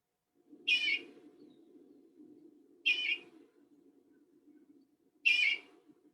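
Three short, bright bird calls from a western bluebird, each a brief burst spaced about two seconds apart, standing out clearly over a faint steady low hum.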